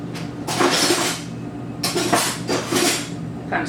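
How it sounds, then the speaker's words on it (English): Harsh metallic scraping strokes of a utensil against a pan, deglazing pork tenderloin bits, come in several bursts over a steady sizzling background, fairly close and loud. "Metal on metal, it's my favorite sound ever."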